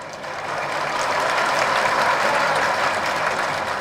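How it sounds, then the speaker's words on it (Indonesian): Large audience at a tax amnesty outreach event in Balikpapan breaking into sustained, dense applause that swells quickly and holds steady and loud throughout. "Kalau ikut amnesti pajak silakan tepuk tangan"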